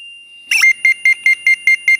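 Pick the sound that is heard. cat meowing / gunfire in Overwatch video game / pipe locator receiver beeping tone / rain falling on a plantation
pipe locator receiver beeping tone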